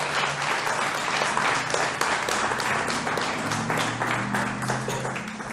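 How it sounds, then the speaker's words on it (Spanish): A church congregation bursts into applause during a worship service, full and sustained clapping from many people with a low murmur and some tonal background sound beneath it. "Denle un aplauso al Rey de Reyes"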